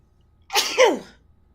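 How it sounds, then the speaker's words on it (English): A single sharp sneeze, close and fairly loud, with a quick intake and burst of breath in an otherwise quiet room. "Sorry, I had a sneeze."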